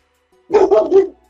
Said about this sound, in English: All right, we hear puppies